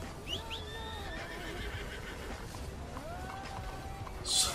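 A horse in the video game Red Dead Redemption 2 whinnies with a long, wavering neigh amid faint clip-clopping hooves, followed by a short burst of hiss at the end.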